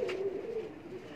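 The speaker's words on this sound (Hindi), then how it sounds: "ये कबूतर हैं जी जिन्होंने आज तारीख रकम की है" A single pigeon coos on a rooftop, one soft low call lasting about a second, close and clear against a quiet background.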